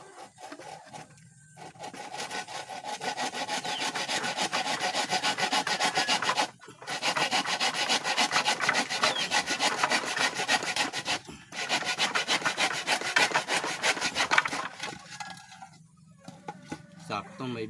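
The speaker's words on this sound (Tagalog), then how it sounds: "Lalagarin rito." Hand saw cutting through wood while building a chicken feeder, steady back-and-forth rasping strokes in long runs broken by two brief pauses, close and fairly loud.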